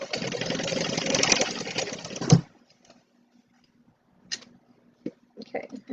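A sewing machine back stitching a tote bag runs in a fast, steady mechanical whir for about two seconds, stops with a clunk, and is followed by quiet and a few scattered knocks and handling sounds.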